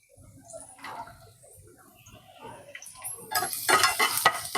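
Garlic and ginger hit hot oil in a pan for cabbage manchurian: a few spoon clinks and scrapes, then a louder crackling sizzle builds up close over the final seconds.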